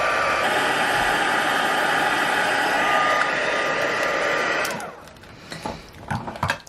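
A heat tool melting gold embossing powder on a card blows a loud, continuous whirring hiss with a faint whine, then cuts off near the end, leaving a few small handling clatters.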